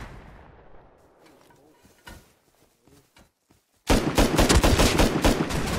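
Rapid bursts of gunfire from the Rust Console Edition video game, with a few sparse distant shots first, then a loud sustained automatic barrage taking over the second half.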